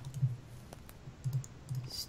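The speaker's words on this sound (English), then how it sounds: "So can you stop pounding on your keyboard?" Faint, irregular clicking from a computer keyboard being hit during a Minecraft session, soft scattered taps with a low hum beneath.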